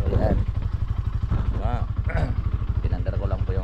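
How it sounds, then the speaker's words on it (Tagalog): A motorcycle engine starts and settles into a rapid, chugging idle, loud and close throughout, with a voice talking over it. "Pinandar ko lang po yung ating motor."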